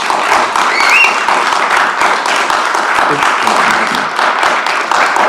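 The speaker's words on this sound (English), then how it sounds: "If you could please hold your applause so we can conduct our discussion in our meeting" An audience at a planning and zoning commission meeting breaks into loud, continuous clapping close by, a thick steady wash of hands with individual claps standing out, while a voice is faintly present underneath.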